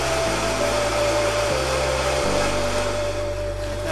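A Vita-Mix VP3 high-power blender purees fresh mint leaves and peeled, seeded cucumber, giving a loud, steady motor roar whose pitch steps up in distinct speed changes, with no talking.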